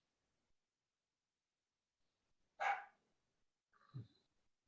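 A single dog bark rings out clearly in an otherwise quiet room during an online meeting, followed a moment later by a brief, lower yelp-like sound; no one speaks over it.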